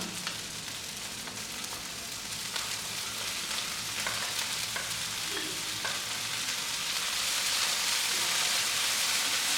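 Onions and green chilies sautéing in a hot pan, a steady, close sizzle and crackle with occasional stirring scrapes, continuous and rising slightly in intensity, no voices.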